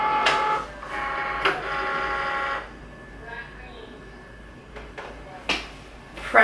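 A Cricut cutting machine works through infusible ink paper, giving a whirring, buzzing motor drone in bursts with short pauses and clicks between carriage moves, fairly close and loud.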